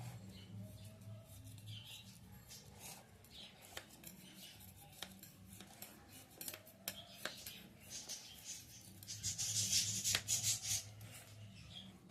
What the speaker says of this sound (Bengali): আমি এবারে ছুরি দিয়ে এটা সাইড দিয়ে আস্তে আস্তে ছাড়িয়ে নিয়ে বার করে নেব।